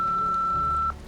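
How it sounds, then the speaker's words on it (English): A single sustained electronic voicemail beep from a phone answering machine in a Nancy Drew mystery game, one steady tone of just under a second that cuts off abruptly over faint background hum. "please leave a message after the beep."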